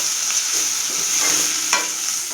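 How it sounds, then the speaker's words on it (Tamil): Ginger garlic paste sizzles and fries in a pan while a spoon stirs it, a steady close hiss with brief scraping stirs, for a vegetable curry made with curry leaves and mint. "இஞ்சி பூண்டு பேஸ்ட்டு ஒரு 1/2 ஸ்பூன் போட்டு நல்லா வதக்கலாம்."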